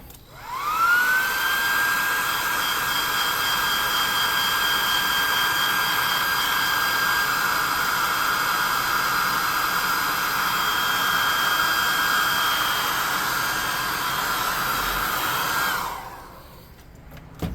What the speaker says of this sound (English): We're going to hit this with the air gun.